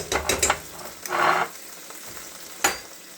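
Bay leaf, onions and garlic dropped into a chicken pot, a sizzling frying burst with some clattering and stirring scrapes, close and moderately loud, followed by quieter background hiss.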